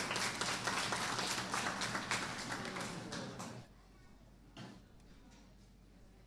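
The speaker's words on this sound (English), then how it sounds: "let's give them a nice round of applause for congratulations" Crowd applause in the show ring at a county fair sheep and goat show, a dense patter of clapping that holds for several seconds before abruptly dying away to a few scattered taps.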